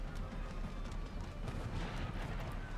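Mortar and artillery fire in a strategy video game, a faint, steady battlefield rumble of distant muffled impacts and low booms running continuously without clear separate blasts.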